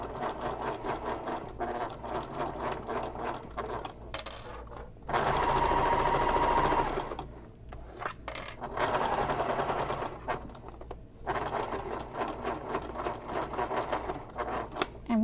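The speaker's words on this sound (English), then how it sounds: "I want to baste this edge closed" A sewing machine bastes the edge of a Mercury Messenger Bag panel closed, running in rapid, steady stitching bursts that pause and restart several times.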